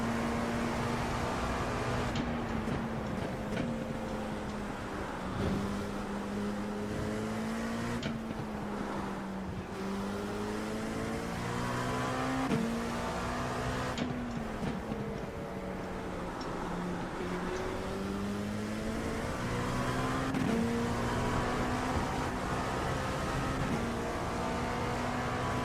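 Simulated GT3 and LMP2 race cars in iRacing at a multi-class race start at Spa-Francorchamps, a steady massed engine drone with shifting, climbing tones as the pack accelerates, continuous and fairly loud throughout.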